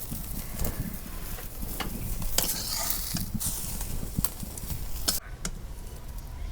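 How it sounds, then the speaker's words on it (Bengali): Fish head frying in hot oil in a pan for a Bengali cauliflower and fish curry, a steady close crackle and sizzle with scattered sharp pops throughout. "অনেক সুন্দর করে মাছের মাথাটা ভাইজা নিচ্ছি"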